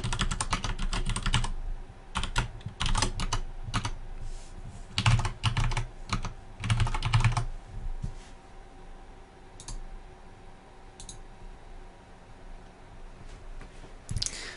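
Rapid bursts of typing on a computer keyboard while entering a computer name, user name and password during an Ubuntu Desktop installation, clusters of close clicks separated by short pauses, growing sparser toward the end.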